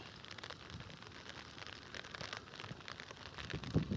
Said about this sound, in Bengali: বৃষ্টি হচ্ছে তাতে কি, কাজ তো এগিয়ে যেতে হবে।